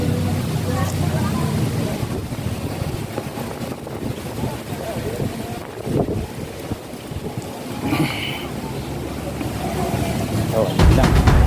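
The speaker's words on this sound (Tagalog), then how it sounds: "Malamig. Malakas ang hangin. Presko hangin." Strong, cool wind gusts buffet the microphone at Bucana Beach in Nasugbu, Batangas, with a continuous rushing roar and surging gusts as a person talks over it.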